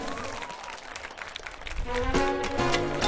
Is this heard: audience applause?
yes